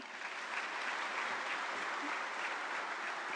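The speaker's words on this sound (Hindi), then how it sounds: "एक बार जोरदार तालियां।" Steady, dense applause from a large audience at a government event with Prime Minister Narendra Modi fills the whole stretch, an even wash of clapping with no pauses.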